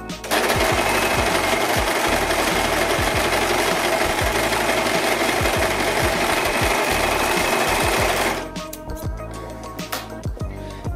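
An overlock serger stitches a test scrap of fabric, running loud and steady at high speed for about eight seconds before it stops and a few faint mechanical clicks follow.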